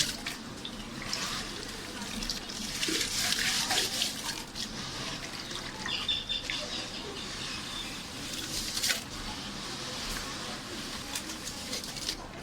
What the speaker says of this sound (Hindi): सैंड को वॉश किया जा रहा है।